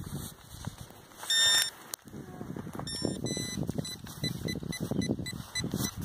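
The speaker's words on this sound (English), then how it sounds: "Your probe's going funny." A metal detector probe beeps erratically in bursts of high tones while a field search goes on, with soft rustling and handling noise around it.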